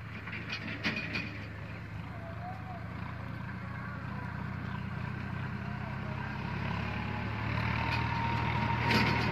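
Swaraj 963 tractor engine working a long farm field, dragging and levelling soil with a computer-guided leveller, a steady low droning rumble that grows slightly louder near the end, heard from close by without speech.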